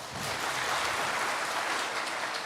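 Church congregation applauding the choir at a Sunday service, a short, even wash of many hands clapping with no pauses.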